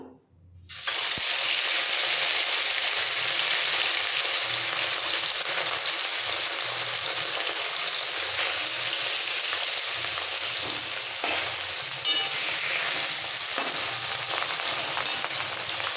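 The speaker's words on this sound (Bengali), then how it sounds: "তেল খুব ভালোভাবে গরম হয়ে গেছে এবার কাতলার পেটি কিন্তু ছেড়ে দেবো নুন হলুদ মাখানো" Katla fish belly pieces coated in salt and turmeric go into hot oil and sizzle loudly and steadily, a dense continuous crackle close up with small pops and no talking.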